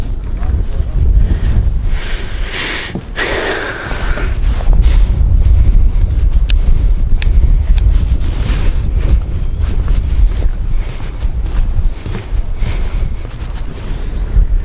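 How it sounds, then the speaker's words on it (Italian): Loud, gusty wind buffets the microphone with a constant low roar, and faint water and creaking sounds come through underneath. "troppo vento"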